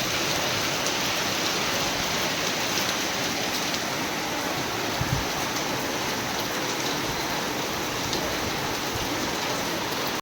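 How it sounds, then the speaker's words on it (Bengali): Heavy rain pours down steadily near a railway station, a dense unbroken hiss of falling water that stays loud and constant throughout, with no voices. "দেখো বৃষ্টি এখনও কন্টিনিউ পড়ছে, আমি পুরোটাই ভিজে গেছি।"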